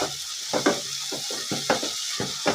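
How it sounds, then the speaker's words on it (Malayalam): Green chili, garlic and ginger paste stirred into tomatoes frying in a pan, giving a steady sizzle punctuated by regular scraping strokes of a spoon against the pan, close and with no talk. "അതിൻ്റെ അകത്തേക്ക് നമുക്ക് ഈ പച്ചമുളകും വെള്ളുള്ളിയും ഇഞ്ചിയും കൂടി അരച്ച പേസ്റ്റ് അങ്ങോട്ടിട്ട് ഇളക്കി കൂട്ടുക"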